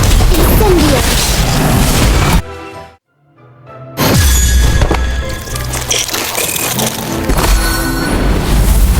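A loud, dense blast of the Incendio fire spell in Harry Potter: Magic Awakened crashes out over busy game sound, then cuts to near silence before a booming burst and roaring effects return.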